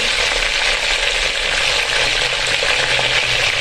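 Zinger chicken pieces frying in hot oil produce a steady, dense sizzle with a constant bubbling hiss and no pauses, heard close up with no voices over it.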